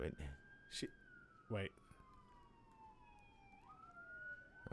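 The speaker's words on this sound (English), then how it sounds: "You hear them sirens?" A police siren wails in long rising and falling sweeps, somewhat distant, with brief bursts of nearby talk at the start.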